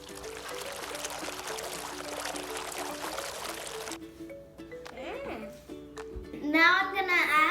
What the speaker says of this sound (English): Now we need to add the water.